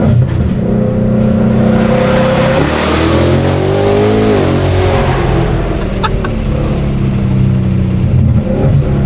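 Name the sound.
car doing a burnout, engine revving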